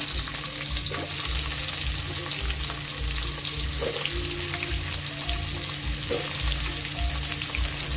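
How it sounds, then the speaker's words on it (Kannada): Vegetables for vegetable rice fry in a pan with a steady, dense sizzle, a few soft stirring clicks scattered through, heard close and alone without talk. "ಇದಕ್ಕೇನೆ ಎಲ್ಲ ವೆಜಿಟೇಬಲ್ ಹಾಕೊಂಡ್ಬಿಡ್ತೀನಿ ನಾನು."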